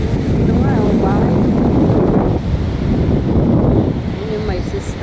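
Sea waves and wind at a seashore make a loud, continuous roar with heavy wind buffeting the microphone. A faint voice can be heard under the noise.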